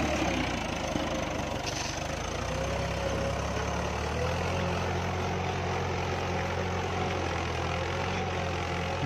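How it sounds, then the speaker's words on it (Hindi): A Mahindra 575 tractor engine labours while pulling a tota plough through a field, a steady droning rumble with a low throbbing beat, constant and fairly close, with no voices. "अब देखिए तोता हल चलने जा रहा है खेत में"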